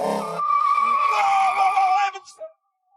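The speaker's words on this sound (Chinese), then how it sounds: "胖哥和强子来到科尔维特赛车场，要试试这辆车的性能" A Corvette sports car is driven hard at the Corvette race track, tires letting out a loud sustained squeal with engine behind it, then fading out to silence.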